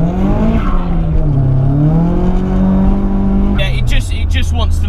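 A modified 350 bhp Nissan S14A accelerates hard through the gears, its engine note climbing and rough with rear wheelspin, then a gear change and sharp crackling near the end, loud and close.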